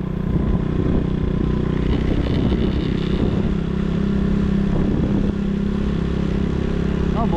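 A motorcycle engine rumbles near and steady on a storm-damaged road in Talisay and Laurel after Typhoon Kristine, with a clattering rise midway and brief voices under it.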